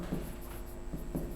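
Chalk or marker writing on a board in a Hindi-language classroom lesson, heard as a few short scratchy strokes in quick bursts, close and fairly quiet, with no talking over them.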